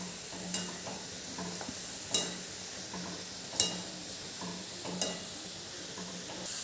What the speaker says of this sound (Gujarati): તળતી વખતે આવી રીતે થોડુંક એને હલાયા કરવાનું, એટલે અંદરની છીણ આપણું બધું છૂટું રહે.